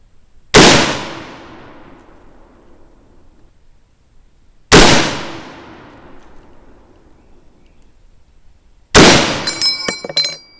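Three loud, sharp M1 Garand rifle shots spaced about four seconds apart at an outdoor range, each with a long decaying echo, and the last followed by the bright metallic ping of the ejected clip.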